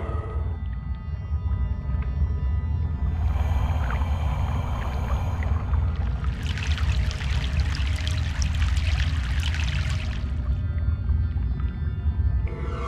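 Boat crossing a river in the game Broken Sword 3, set in Egypt: a steady low rumble of water and hull with splashing swells that rise into a louder rushing wash midway, then settle back, no voices.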